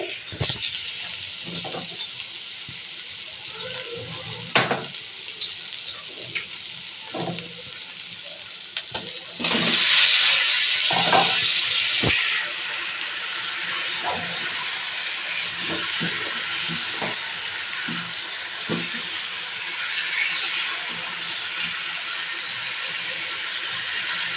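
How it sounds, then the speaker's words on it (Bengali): Chicken meat fries with spices in a pot, a steady sizzle and hiss under repeated scraping stirs, with a sudden louder burst of sizzling partway through that settles into a brighter steady hiss, close, no talking. "দেখুন আমি মাংসটা কষাচ্ছি।"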